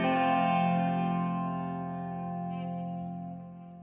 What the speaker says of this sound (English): the 3rd chord sounds like this